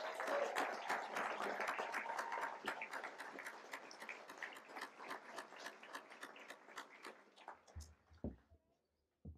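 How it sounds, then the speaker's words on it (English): Crowd applause for staff at a 2023 high school graduation ceremony, a dense sustained clapping that fills the hall for about eight seconds before thinning and fading out. "Please give them a huge round of applause."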